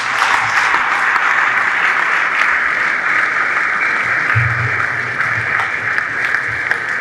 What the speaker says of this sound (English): Keep the applause coming, ladies and gentlemen